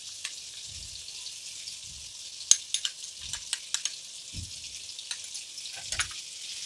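Masala for methi kadima sabji sizzles in a pan, a steady soft hiss with scattered sharp pops and the occasional low scrape of stirring, no voices.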